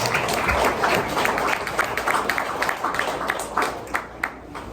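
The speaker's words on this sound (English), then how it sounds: "let's give a round of applause for Ian for joining us today" Audience applause at a holiday party, a dense steady patter of many hands clapping at moderate volume, fading slightly toward the end.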